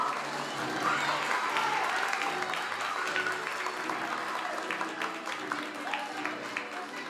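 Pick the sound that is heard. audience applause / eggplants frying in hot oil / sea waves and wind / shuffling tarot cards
audience applause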